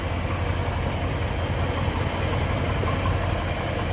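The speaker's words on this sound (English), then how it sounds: "There it is, Mercury 390 V8 underneath the hood, power steering, again, power brakes, AC compressor." A 390 V8 in a 1963 Mercury Marauder idles steadily and smoothly up close, a constant low rumble with a faint hiss and no voices over it.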